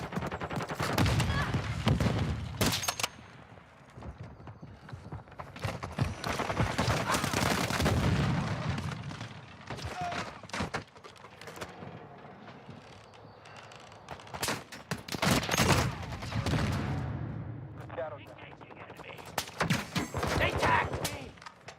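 Gunfire fills a Call of Duty Modern Warfare II multiplayer match: dense, loud bursts of automatic weapons and booming shots recur throughout, with radio-style game announcer callouts and voices mixed in.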